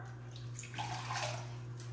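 Water running from a tap while making spelt flour bread dough, a steady hissing flow with a low hum underneath, close and continuous with no talking.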